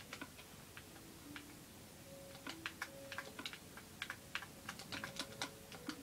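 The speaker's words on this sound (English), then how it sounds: "Sorry if you can hear the clicking of my controller." Game controller buttons click faintly and steadily during Minecraft play, a quiet run of small plastic taps with uneven rhythm, some clusters quicker than others, over a soft background hiss.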